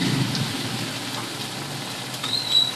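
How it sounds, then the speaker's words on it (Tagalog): Steady, dense rain hisses throughout, a continuous broadband wash with a low rumble underneath and no voices. "Lakas na naman po ng ulan kasi."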